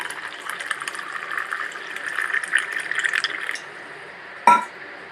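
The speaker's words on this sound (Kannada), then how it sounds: "ನಮಗೆ ಎಷ್ಟು ಬಿಸಿ ಬೇಕು ಅಷ್ಟು ಬಿಸಿ ನೀರನ್ನ ಹಾಕ್ತಾಯಿದ್ದೀನಿ." Hot water pours into a glass with a clear trickling fill sound for about three seconds, then a single sharp clink of glass near the end.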